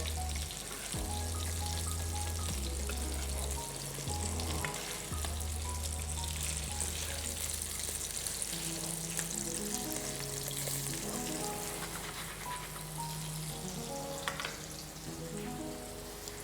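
Slices of panettone French toast frying in a pan with a steady, close sizzle that runs throughout. Low tonal music plays underneath.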